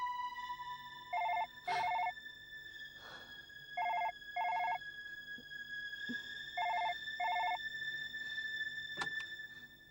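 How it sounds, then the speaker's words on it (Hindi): A telephone rings in a quiet room in a Hindi horror drama, sounding in paired bursts of electronic trilling separated by pauses, three double rings over a faint background hum with a few soft knocks. "लेकिन यहाँ तो फोन पहली बार बजा है।"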